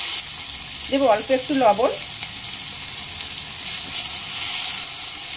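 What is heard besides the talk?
chopped tomatoes and green chillies sautéing in a pan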